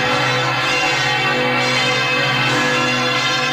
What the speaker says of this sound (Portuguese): Vamos ouvir os sinos da maior basílica do mundo.